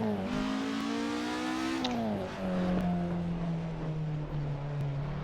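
A race car in Assetto Corsa drives to warm its tires, the engine drone loud and steady with a rising pitch, a brief shift dip, then a long sustained pull.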